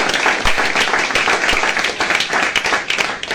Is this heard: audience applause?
yes